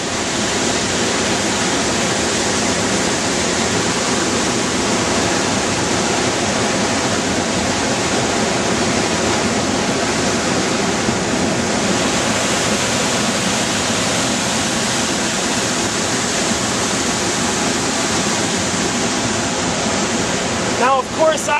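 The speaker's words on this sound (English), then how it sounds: "See, here's that beautiful river." At Fossil Creek, Arizona, a river rushes in a loud, constant wash of water that stays steady throughout, with a brief clatter of handling noise at the very end.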